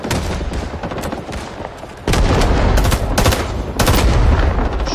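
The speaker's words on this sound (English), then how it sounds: "AC-47 inbound. Take cover." Heavy, loud bursts of AC-47 gunship fire in Rising Storm 2: Vietnam, rapid rolling fusillades and booming impacts that swell after a quieter opening and keep pounding in dense waves.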